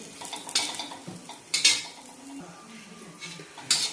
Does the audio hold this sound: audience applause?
no